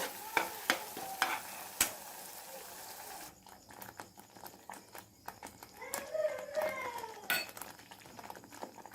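Masala for Kolhapuri misal sautéing quietly in a pan, a soft sizzle under spoon scrapes, opening with several sharp metallic clinks of utensil against pot.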